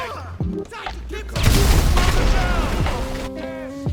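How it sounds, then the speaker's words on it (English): A bike packed with a bomb blows up in GTA Online's bar fight mission, a loud booming blast with crackling debris and fire rolling on for a couple of seconds, with game voices speaking before it. "just put a bomb on your bike and drive it in"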